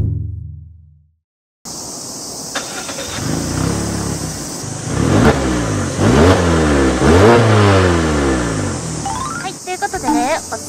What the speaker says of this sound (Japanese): この車ディーゼル車ではなくガソリン車なんですけど、このエンジン音もね、なかなかいいんですよ。